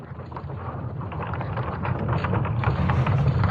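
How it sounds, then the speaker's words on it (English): A low, continuous rumbling drone of the sonified Earth's magnetic field, with crackling, gusty texture, steady and slowly swelling a little louder. "This is the sound of the Earth's magnetic field."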